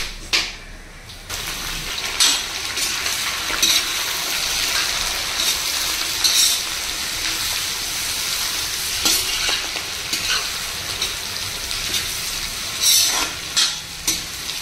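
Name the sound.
whole spices tempering in hot oil for veg biryani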